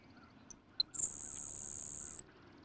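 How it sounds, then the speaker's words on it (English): A Grasshopper Sparrow gives a couple of short, high ticking notes, then a long, thin, insect-like buzz lasting over a second. It is fairly faint against a quiet outdoor background. "Grasshoppers are one of the few North American sparrows that sings two completely different songs"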